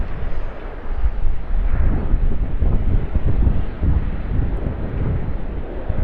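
An aircraft landing at Sydney Airport, a loud continuous low roar with heavy wind buffeting on the microphone, steady throughout with no voices.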